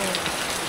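Steady rain falls during a storm, a dense, even hiss of drops on surfaces, heard briefly and close with no talking.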